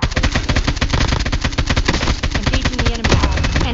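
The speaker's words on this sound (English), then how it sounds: "Oh, I want to try this freaking AK." AK rifle firing in a video game, a rapid steady string of close, loud shots lasting several seconds with no pause, dense and punchy throughout.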